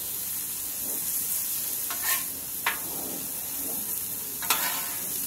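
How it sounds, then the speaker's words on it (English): Egg rolls frying on a hot diner griddle give a steady, quiet sizzle throughout, with a few sharper scraping or tapping accents, and no voices. "egg rolls cooking."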